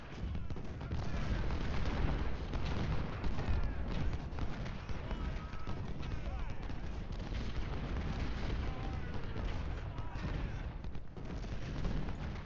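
Dense, continuous battlefield din from Ultimate General: Civil War: rolling artillery booms and crackling musket volleys overlapping without pause, loud and sustained throughout.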